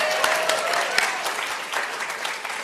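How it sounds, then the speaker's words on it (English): A church congregation claps together in a steady, fairly dense round of applause that fills the room evenly from start to finish, with no talking over it. "And then let's clap because we're just all here together."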